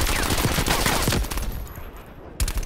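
Rapid automatic gunfire in Call of Duty Black Ops Cold War: a dense fusillade of shots for over a second, then quieter background, then a short final burst near the end, close and loud.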